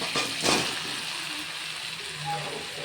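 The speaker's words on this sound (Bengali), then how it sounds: "বাঁধাকপিটাকে অল্প ঢেকে ঢেকে কষিয়ে নেব" Cabbage sautés in a pan, partly covered, with a steady soft sizzle and hiss throughout and a brief louder crackle near the start.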